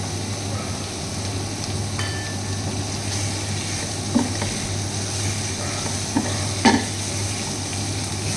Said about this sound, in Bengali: ভালো করে নেড়ে চেড়ে নিচ্ছি।